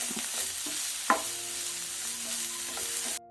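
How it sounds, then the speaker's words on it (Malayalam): Sliced onion sautéing in a pan with ginger, garlic and green chili, a steady frying sizzle with a few clinks of a stirring spoon against the pan, ending abruptly. "നമുക്കിതിലോട്ട് ഒരു സവാള ഇതേപോലെ നീളത്തിലരിഞ്ഞ് നമ്മൾ ചേർത്ത് കൊടുക്കാം എന്നിട്ട് ഒന്ന് വഴറ്റിയെടുക്കണം"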